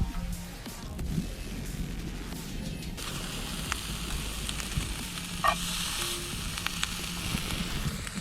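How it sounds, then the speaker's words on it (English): Bacon frying in a pan for a home camp-style cook, a steady close sizzle and crackle with occasional stirring scrapes and a brief clink, continuous and fairly loud throughout. "While that bacon's cooking"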